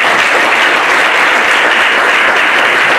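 Loud, dense applause for a conference panel on big data, a packed room clapping continuously and close at full volume throughout.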